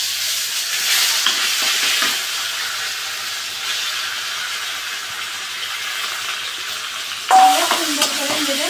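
Raw banana peel paste hits hot oil, a steady broad frying hiss with soft stirring scrapes, then a sharper louder sizzle bursting up near the end as the paste lands, close and without talk.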